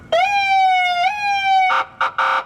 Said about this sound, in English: also it's got a siren